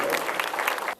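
Dignitaries at a students' quiz grand finale applaud steadily, a dense burst of clapping that carries through the whole second and stops abruptly near the end.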